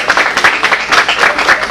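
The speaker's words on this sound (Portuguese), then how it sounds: "uma salva de palmas agora" A lecture audience applauds a special guest professor at a Portuguese talk on climate change and permafrost, a steady patter of many hands clapping for the whole stretch with no voices over it.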